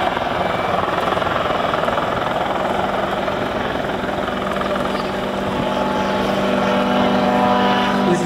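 Autogyro with a small reciprocating engine driving a pusher propeller, flying at a rotor festival: a continuous droning engine and prop hum with a steady buzzing tone, moderately distant and constant throughout.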